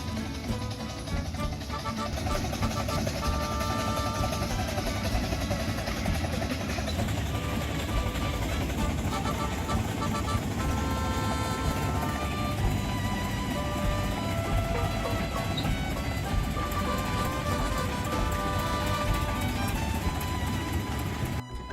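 The Holt M8 inline-six overhead-valve engine of an 80-year-old tracked artillery hauler runs loud and steady, a dense continuous mechanical roar with rattling and clanking, unbroken for the whole stretch.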